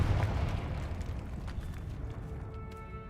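A Confringo spell blast in Hogwarts Legacy, a fiery explosion with a loud booming rumble that fades over about three seconds, alone with no talk.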